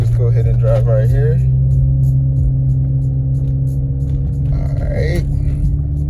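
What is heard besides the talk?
Audi car driving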